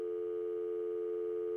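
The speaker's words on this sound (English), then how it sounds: "That sound is a dial tone." A steady, continuous telephone dial tone hums without a break, clean and close, with no other sounds.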